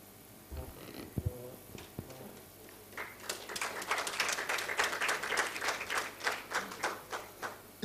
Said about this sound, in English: If you are clapping, you better clap.